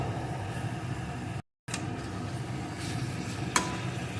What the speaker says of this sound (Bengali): এখন ডিমগুলোকে এর সাথে একটু নাড়িয়ে নেব